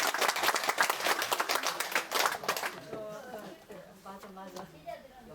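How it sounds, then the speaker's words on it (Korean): Audience applause at a Sunday Buddhist lecture: a burst of many hands clapping loudly for a few seconds, then fading into scattered claps as voices start talking. "박수 한번 치십시오"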